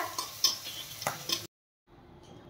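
Tomato with garam masala frying in a pan while being stirred, quiet sizzle with several scraping spoon strokes, close up, then a sudden cut to near silence and a faint low background.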